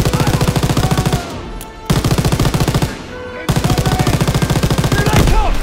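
Sustained machine-gun fire in Call of Duty WWII's D-Day mission, loud and close, with continuous rapid bursts broken by two brief pauses and a shouted voice.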